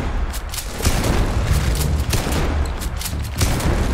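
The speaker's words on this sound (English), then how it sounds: "Try the shotgun. Shotgun always does good." Repeated shotgun blasts in the Starfield video game during a fight with an adult Grylloba queen, loud booming reports spaced irregularly over a constant rumbling battle din.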